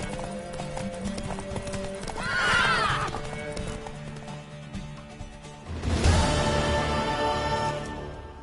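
A horse whinnies loudly with a rising, wavering call in The Witcher 3: Wild Hunt, then another burst follows amid a busy backdrop of clip-clopping hooves and game sounds.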